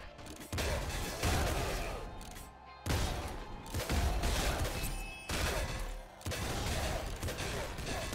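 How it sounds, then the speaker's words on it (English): Chain-reacting explosions and burning fire effects in the top-down shooter game Nuclear Throne, a dense roaring barrage of blasts in several loud surges with brief dips between, filling the whole clip. "all the explosions are just like chain reactioning with this burn effect"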